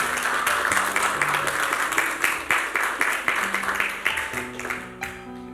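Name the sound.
church congregation applause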